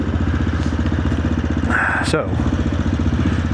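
An AJP PR7 motorcycle engine keeps running steadily at idle-like revs, a continuous rumbling thrum with a brief mechanical clatter midway, while someone speaks a single word over it.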